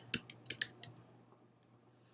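A short burst of crisp computer keyboard key taps, about seven quick clicks in an irregular rhythm followed by one last isolated tap, close and fairly quiet over a low steady hum.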